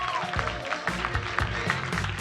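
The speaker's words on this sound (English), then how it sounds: "Give them a big round of applause." Steady applause from a live audience greeting a three-person comedy panel, a dense wash of clapping that holds at even loudness for the whole stretch, with lower rumble from the crowd beneath it.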